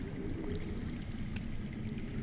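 Steady underground water flowing in a cave setting within a Game of Thrones video game, a continuous low rushing wash at even loudness with no talk.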